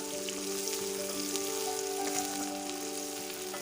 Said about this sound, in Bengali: পেঁয়াজ কুচিটা ভালোভাবে ভেজে নেব লাল করে